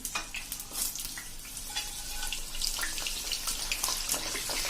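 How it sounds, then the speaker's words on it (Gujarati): Unripe bananas with the peel left on fry in hot oil, a steady bright sizzling hiss with light stirring clicks throughout, close and unbroken. "એ જ રીતે હવે આપણે કાચા કેળા લીધા છે છાલ સહિત, એને પણ આપણે તળી લેશું."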